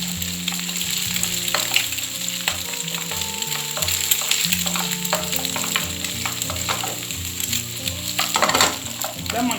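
Eggs and chicken sizzle loudly in a pan for Sri Lankan chicken fried rice, a constant close frying hiss with scraping stirs throughout, no voices.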